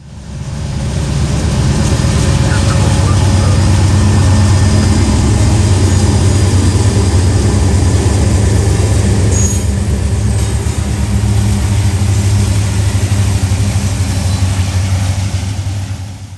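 A grain train rolls past at Attica Junction, Ohio, a loud, steady low rumble of heavy diesel engines and rolling freight cars that holds unbroken and close throughout.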